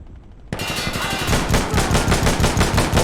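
Gunfire in a competitive shooter video game: silence breaks into a sudden, loud, close burst of rapid automatic fire that keeps going steadily with no voices.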